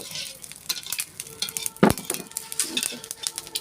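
Pulao cooking in a pot: a soft continuous sizzle with stirring and scraping of a utensil against the metal pot, plus occasional clinks, close by and moderately loud.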